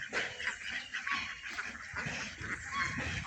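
A large flock of farm ducks roaming open ground on a mixed farm quacks continuously in a dense, overlapping chorus, close and moderately loud.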